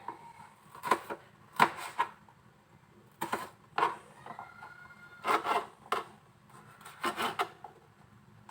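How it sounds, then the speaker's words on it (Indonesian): Irregular bursts of a knife chopping chili peppers on a board, a few short strokes at a time with pauses between, close and fairly quiet, no talking. "Sambil menggoreng kita potong-potong cabenya."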